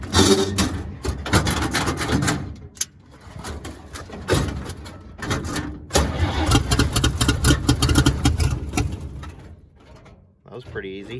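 A WWII-era engine with its carburetor primed with mixed gas cranks and starts, sputtering and firing in uneven bursts before running roughly and dying down; birds are faintly audible.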